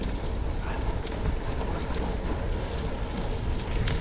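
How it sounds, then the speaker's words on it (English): Wind on an old railway track used as a gravel cycling path, heard as a loud, steady buffeting rumble across the microphone with no pauses. "it's a little bit windy today"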